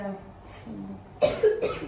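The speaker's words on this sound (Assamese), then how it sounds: "ইমান কাহ একেবাৰে আগুৰি ধৰিছে" After some soft speech, a person gives two sharp coughs close by, one right after the other.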